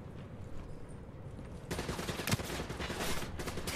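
Gunfire in Call of Duty: Black Ops 3, dense rapid shooting that surges louder halfway through and continues as a sustained noisy barrage with no talking.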